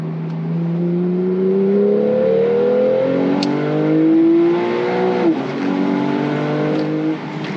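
A car engine drones steadily as it drives along a tree-lined road, rising and falling in pitch as it accelerates and shifts, loud and close from inside the vehicle, with no talking.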